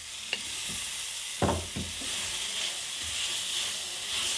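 Pork meat drops into a hot pan for a pork and spinach stew, with a steady close sizzle and hiss throughout and a few soft clunks as the pieces land and shift.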